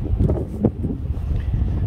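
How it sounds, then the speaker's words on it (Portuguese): Wind on a sandy coastal stretch between Póvoa de Varzim and Esposende buffets the microphone in a steady, rough roar that swells slightly now and then, with no talking. "Agora está um bocadinho de vento, pode estar aqui a fazer alguma interferência no vídeo"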